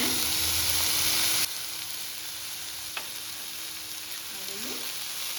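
Onions with green and dried chillies fry for an egg fry, a continuous hissing sizzle that starts louder and settles to a softer, even crackle with an occasional faint clink.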